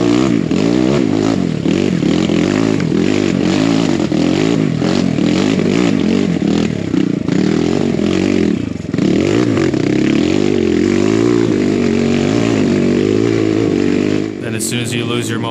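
Kawasaki KLX170RF dirt bike straining up a rocky boulder hill, its engine loud and close, revving and bogging with scraping and clattering over rocks, a rider talking over the noise.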